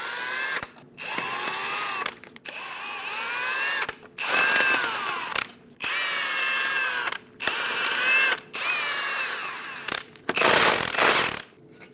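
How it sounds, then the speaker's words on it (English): Power tool with a 22mm socket spinning lug nuts off the front wheel of a 2001-2006 Chevrolet Silverado 2500, sounding as about seven loud whirring bursts of one to two seconds each, separated by short silences, no speech. "Using a 22mm socket, remove all of the lug nuts."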